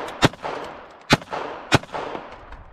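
A Taurus TX22 .22 pistol fires three sharp, fairly quiet shots spaced under a second apart, each a crisp crack with a short outdoor echo.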